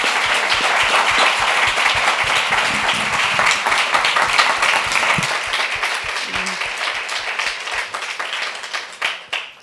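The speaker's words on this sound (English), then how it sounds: "please join me in giving a round of applause to our panelists" Sustained audience applause and clapping for panelists at a fashion discussion event about Black Is Beautiful, steady and dense, fading toward the end.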